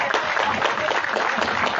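Audience applause for the provincial mayor of Caravelí at an anniversary celebration of Paucar del Sarasara province, a steady wash of many hands clapping throughout, with a faint voice underneath.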